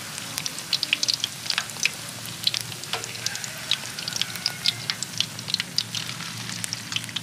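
Battered linh fish fry in hot oil with a steady, crackling sizzle, scattered sharp pops and spits over a constant hiss, close and moderately loud with no talking.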